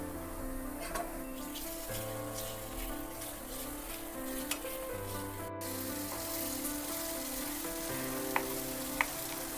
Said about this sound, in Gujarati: ડુંગળી સતળાઈ જાય એટલે એમાં આદુ, મરચાં અને લસણની પેસ્ટ ઉમેરી એને સાતળી લઈશું.